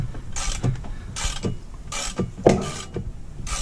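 A nut with a built-in plastic locking washer is threaded onto a zinc anode on a Mercruiser Alpha drive, giving short, close ratcheting scrapes and clicks in a quick irregular rhythm.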